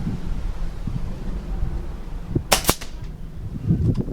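An FX Wildcat MK2 air rifle fires a pellet outdoors, giving one sharp, loud crack followed almost at once by a second snap, over quiet wind and ambient rustle.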